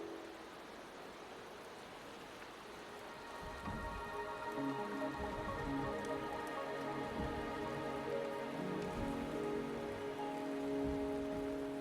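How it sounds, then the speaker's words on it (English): Steady video game rain patters on surfaces, growing a bit denser partway through, with a soft hum beneath and no voices. "The rain is subsiding, and the sky will soon clear."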